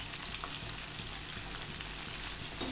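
Pakoda fritters deep-frying in hot oil: a soft, even bubbling sizzle that stays steady throughout, with no talking.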